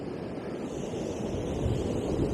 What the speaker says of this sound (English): There's a lot of waves crashing over on the